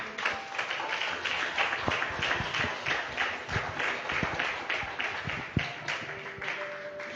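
A church congregation applauds together in a sustained, moderately loud stretch of clapping, with scattered sharper claps and faint voices mixed in throughout.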